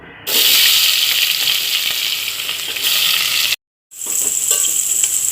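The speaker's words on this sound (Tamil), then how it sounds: "ஆனியன் இன்னும் கொஞ்சம் நேரம் நல்லா வதங்கி வரட்டும்." Onions sautéing in hot oil with bay leaf and spices for Chettinad chicken biryani, a loud, steady close sizzle that drops out for a brief moment near the end, then resumes.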